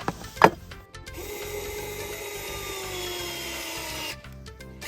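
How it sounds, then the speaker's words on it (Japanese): A power driver spins short screws into a wooden floor extension board for a Subaru Forester cargo area, a brief knock followed by a steady whirring run of several seconds, close and alone. "短い貫通しないビスをつけていきます。"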